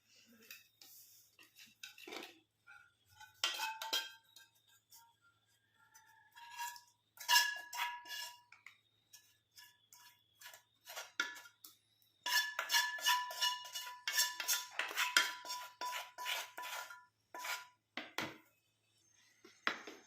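Hair dye paste scraped and tapped from a container into a bowl, a series of close metallic clinks and scrapes of a spoon against the bowl in irregular bursts, with quiet pauses between.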